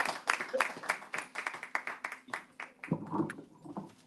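An open mic crowd applauds a performer named Nia, bursts of clapping at moderate distance, then a short pause before the clapping picks back up with some voices mixed in.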